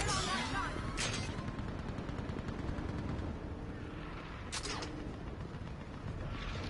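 A mounted turret gun in Halo fires in rapid, continuous bursts, loud and dense, with a few sharper blasts standing out over a steady rattle of gunfire.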